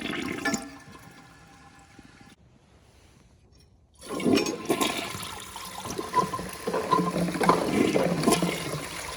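A 1956 Case Camel toilet flushes: a short rush, a quiet lull, then a loud, sustained surge of swirling water and refilling that carries on to the end, close by.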